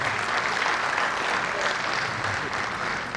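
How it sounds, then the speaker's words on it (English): A hall audience applauding a guest at a gathering, a dense, steady clapping that fills the whole stretch at close range, with faint voices mixed in. "can we give him a round of applause?"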